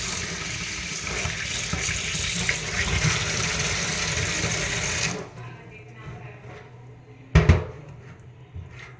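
Tap water runs steadily into a sink while soaked sprouts are rinsed for a breakfast salad, the flow then cuts off, followed by a sharp clatter and quieter handling sounds.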